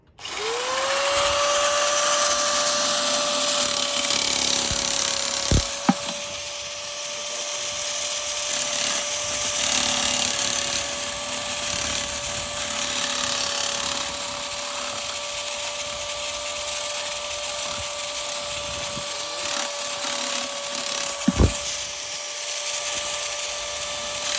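Parkside PMK 550 B1 cordless nibbler shears start up with a sudden high motor whine that holds steady for over twenty seconds while cutting, marked by a couple of sharp clicks and no speech.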